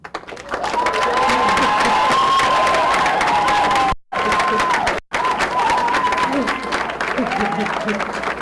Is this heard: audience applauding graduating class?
yes